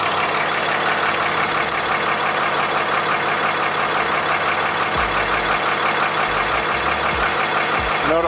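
A 4th-gen 6.7 Cummins diesel engine in a pickup truck idles steadily and loudly up close, with a continuous rumbling clatter that holds even throughout.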